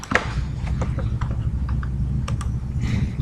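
Computer keyboard keys tapped at a desk while working in CorelDRAW, a handful of light, irregular clicks heard close over a steady low hum.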